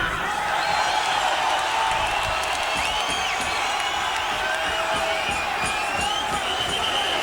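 A large indoor crowd roars and cheers continuously, with scattered whoops and a steady rumble of noise throughout.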